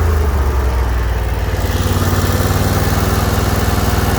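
A 48-inch commercial-grade Bad Boy zero-turn riding lawn mower engine runs loud and close, then settles midway into a steady, pulsing idle with no other sounds.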